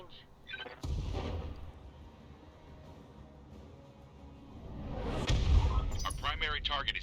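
Thumper artillery fire in the BattleTech video game, a deep booming impact followed by sustained rumble, then a heavier rolling blast near the end with game effects, as voices speak over it.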